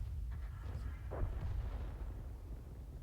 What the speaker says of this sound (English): You can pump out a lot of rounds of ammunition with this howitzer